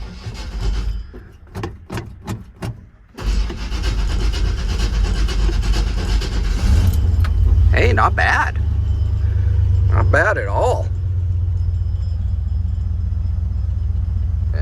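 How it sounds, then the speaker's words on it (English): A 1959 Dodge truck that has sat for two weeks is cold started: a few cranking bursts, then the engine catches and settles into a loud, steady low rumble, with someone speaking briefly over the idle. "let's do a cold start. This truck's been sitting for 2 weeks."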